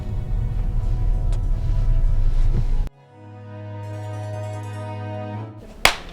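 A car rumbles along a road while arriving in the town of Frankivsk in Ukraine. The steady engine and road noise stops abruptly partway through. A lower, tonal hum follows, and one sharp thump or slap lands near the end.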